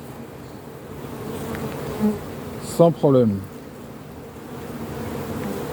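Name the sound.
honeybees buzzing at an open beehive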